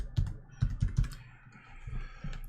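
Keystrokes on a computer keyboard during 3D software work, in short irregular bursts of close, crisp clicks with brief pauses between them and no talk.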